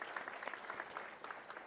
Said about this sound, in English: I think that deserves a big round of applause for the CP Cyberabad.